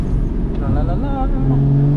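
Porsche Cayman GT4 exhaust burbling and crackling as the throttle is lifted, a steady close engine drone with rapid popping texture, with a voice briefly talking over it.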